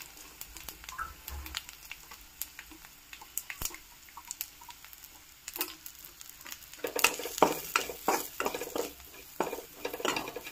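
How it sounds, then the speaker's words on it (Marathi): Crushed peanuts sizzle in hot oil in a pan with reddened garlic and curry leaves. A soft frying hiss runs under sharp spatula clinks and scrapes, and the sizzle grows busier and louder toward the end. "त्यानंतर मी हा शेंगदाण्याचा कूट टाकून घेत आहे यामध्ये"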